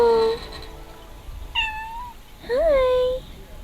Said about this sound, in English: Are you meowing?